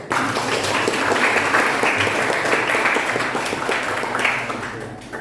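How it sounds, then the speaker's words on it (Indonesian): Applause for both teams at a school science debate, dense continuous clapping from a crowd that stays loud throughout before tapering slightly at the end. "Tepuk tangan untuk kedua tim"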